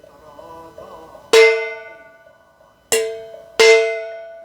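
A metal spoon strikes a bowl, likely a singing-bowl-like vessel used for meditation, ringing out three times with long shimmering decays over a faint background of speech.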